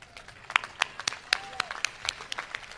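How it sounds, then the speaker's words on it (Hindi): Scattered hand clapping from a poetry recital audience, uneven and moderately loud, with sharp individual claps rising and fading over a couple of seconds. "एक कविता और सुनाऊं तो ताली बजा के बताइए साहब।"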